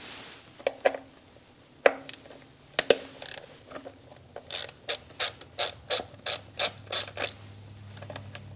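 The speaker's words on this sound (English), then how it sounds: "Use your 8mm socket to pull off the ignition coil." Socket ratchet loosening the 8mm ignition coil bolts on a Toyota RAV4 Hybrid engine: a few sharp isolated clicks, then a steady run of about ten evenly spaced ratcheting bursts, close and clear with no talk.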